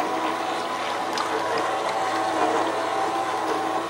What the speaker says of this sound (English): My engines are in full reverse right now.